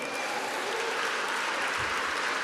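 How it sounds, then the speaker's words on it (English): Gala audience at the 2021 Caron fundraiser applauds a total raised so far, a continuous dense roar of clapping from a large room, steady throughout. "So that's a good thing to clap for."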